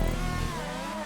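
An open-wheel race car in GTA Online accelerating hard, its loud steady engine tone climbing in pitch through a brief full-throttle pull with no talking.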